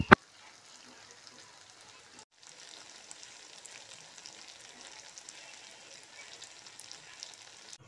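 Tofu that was boiled beforehand fries in a pan with a faint, continuous crackling sizzle, interrupted by a brief gap and otherwise steady throughout.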